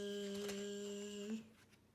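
A lawnmower gives off a steady, droning zoom at a constant pitch for over a second, then drops away into quieter background noise.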